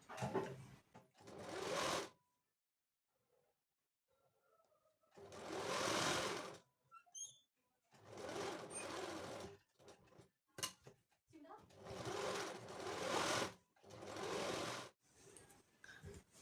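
A sewing machine stitches strips onto a dress in several bursts of a few seconds each, close and clear, separated by pauses with light handling noises and brief speech in between.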